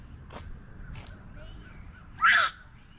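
Crows caw outdoors in Canada: a few short, fairly faint calls early on, then one louder, nearer harsh caw near the end over light background noise.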